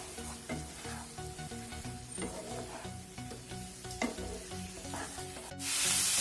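Chicken with taro root stirred in a pan after the lid comes off, a steady close sizzle with scraping spatula strokes and a few sharp knocks, rising into a louder hiss at the end.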